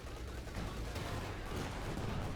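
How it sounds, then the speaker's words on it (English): A 50mm gun firing in the Company of Heroes 2 strategy game, heard as a dense, continuous wash of distant battle noise and gunfire rumble rather than clearly separate shots. "Shoots, misses with his 50mm gun."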